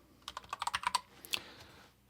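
A rapid run of about ten light keystrokes on a computer keyboard, followed by a pause and two more taps, quiet and close with no talk.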